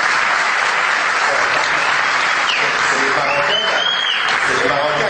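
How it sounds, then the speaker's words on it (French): Loud, dense applause from a large crowd, sustained and even throughout, with a murmur of voices mixed into the clapping. "C'est les Marocains qui applaudissent ça."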